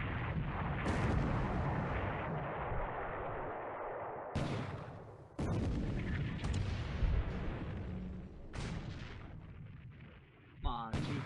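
Naval gunfire in a WWII naval strategy video game: heavy booming shots and rumbling blasts repeat through the stretch, loud and close, with a sharp report near the end and a voice talking over it.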